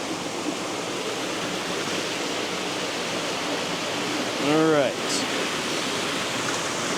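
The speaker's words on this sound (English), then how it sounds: "we've got a decent amount of water flowing. I've not actually seen water flow in here before, but we've got this lovely cascade coming down" A cascade of icy water tumbles down a rocky channel in a steady, full-bodied rush, and someone speaks briefly over the roar partway through.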